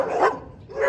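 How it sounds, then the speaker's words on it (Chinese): Belgian Malinois dogs bark in a kennel, a short burst of loud, close barking that fades briefly and then picks up again within a second. "马犬太吵了"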